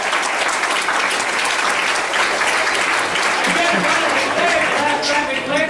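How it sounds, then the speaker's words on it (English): A big round of applause from an audience at a Yuba College Athletics Hall of Fame ceremony, dense steady clapping filling the room at an even level throughout, with a few voices mixed in. "Come on, big round of applause."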